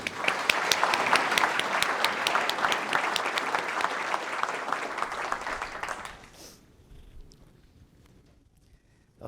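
Audience applause at a New Hampshire gubernatorial debate welcoming the host, a steady dense clapping from a room of people that carries for about six seconds, then thins and fades into quiet.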